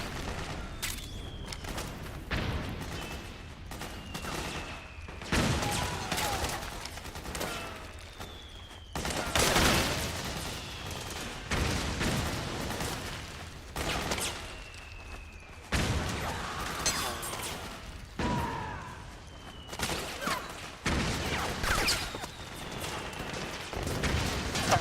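Bursts of gunfire in the video game Metal Gear Solid 4, with repeated loud volleys and booms overlapping in dense, sustained fusillades across a battle, interspersed with brief lulls.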